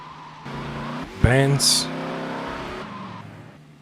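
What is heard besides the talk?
car driving in a video game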